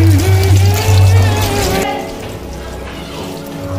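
Tap water running into a sink as a woman washes her hands during a COVID-19 awareness skit, a steady close splash and trickle over a low hum that drops away partway through.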